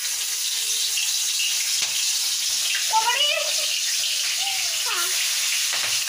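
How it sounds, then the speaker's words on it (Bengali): Salted, turmeric-rubbed prawns fry in mustard oil with a steady, even hiss and sizzle throughout, as someone speaks over it. "এগুলো আমি একটা একটা করে ভেজে নেব।"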